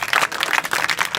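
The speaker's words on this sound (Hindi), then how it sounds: "वेरी गुड, ताली बजाओ।" An audience at a school adolescent education program claps in a brisk, dense burst of applause, close and fairly loud, with no talk over it.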